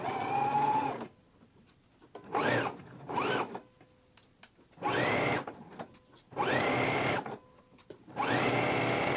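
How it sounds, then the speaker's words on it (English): A sewing machine stitches a dress seam for McCall's 7922 in a series of short whirring bursts, about six in all, separated by quiet pauses, close and clear with no talking. "I'm gonna continue to stitch down all the way along the seam allowance. So let's go ahead and close up the center seam now."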